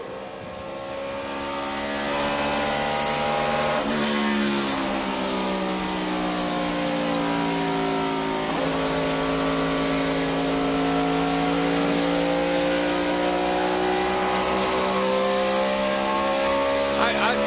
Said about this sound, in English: It sounds like it broke a rocker arm, something in the engine itself